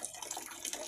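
Water runs steadily from a tap while someone rinses off after a swim in the sea, a continuous close hiss and splash with no voices.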